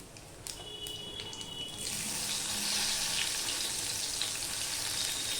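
Chopped medium onion sizzles in a pan with spices for a vegetable dish. A few soft clinks come first, then a loud, steady hiss of frying builds and holds, close up and alone.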